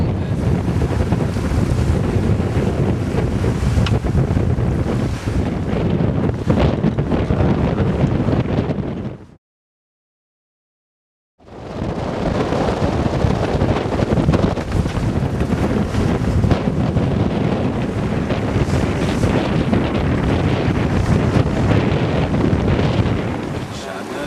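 Strong wind buffets a sailboat running downwind with a small swell, a loud steady roar with rushing water that cuts out for about two seconds before returning just as hard.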